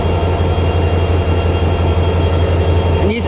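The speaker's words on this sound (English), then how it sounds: "I have another train coming." A Canadian Pacific or Union Pacific freight train rumbles past close by, a loud steady roar with low engine drone and rail noise throughout, no voices.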